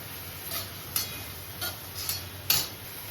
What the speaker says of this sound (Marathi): अशा पद्धतीने भाज्या भाजून घ्यायच्या हाय फ्लेमवर